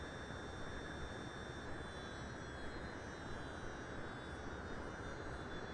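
Cessna 172 Skyhawk engine in FSX, cruising on a flight from Allama Iqbal International to Chaklala International: a steady, dense drone that holds at an even level throughout with no breaks, and nobody speaks.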